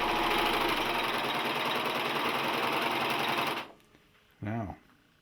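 A Singer 14J250 Stylist 4-thread serger runs steadily and loudly while chaining off, with a dense mechanical whir. It then stops abruptly and a short burst of voice follows.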